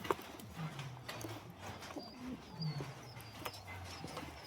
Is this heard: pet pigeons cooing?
yes